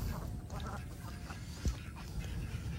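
Village ducks quacking outdoors, a dense, low, busy chatter of calls from a flock with one louder quack standing out midway.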